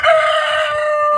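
A giant chicken lets out a loud, close, sustained call, a single drawn-out crowing note held steadily with no other sounds around it.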